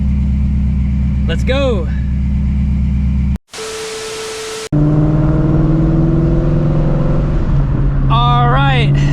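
A car being driven around the block on a public road, its engine a steady close drone with rising revs in places and a brief cut partway through; people talk over it.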